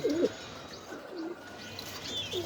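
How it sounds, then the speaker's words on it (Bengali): Pigeons at a bird seller's loft in Mirpur coo softly and repeatedly at close range, with faint chirps and outdoor background noise, no speech. "অনেক সুন্দর কবুতরগুলো ভাই দেখার মতো"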